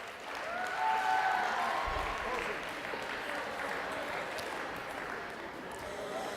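Sustained applause at a school sports banquet for a fourth-place under-19 girls' volleyball team, even and fairly quiet, with a brief sharper burst partway through.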